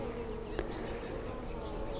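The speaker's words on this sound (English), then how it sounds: "And the bees are fussing already" Honeybees in a beehive fill the air with a steady, dense buzzing hum, close and continuous, with a few individual bees whining past.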